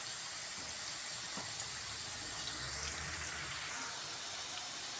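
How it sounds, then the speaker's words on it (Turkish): Zucchini frying in hot oil, with a steady, even hiss and sizzle that holds at a constant level throughout and has no talk over it. "Kabakları kızarıyor."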